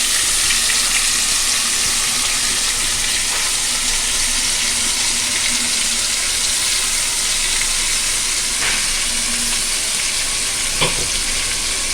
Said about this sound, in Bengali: আমি এবার এই তেলের মধ্যে বেটে রাখা মশলাগুলো দিয়ে দিচ্ছি, পেঁয়াজ, আদা, রসুন, টমেটো আর কাঁচা লঙ্কা।